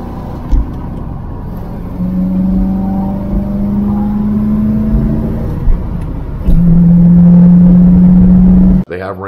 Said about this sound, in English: It has a real unique center exit dual exhaust.